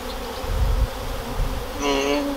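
Honeybees buzz close by at a beekeeper's hives in a dense, droning hum that swells slightly toward the end, with no talking.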